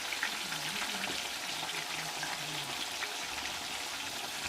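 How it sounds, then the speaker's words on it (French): Plantain and chicken frying in plenty of hot oil, a steady dense sizzle and crackle that stays even and fairly loud throughout with no pauses. "On va les laisser frire et on viendra voir le résultat."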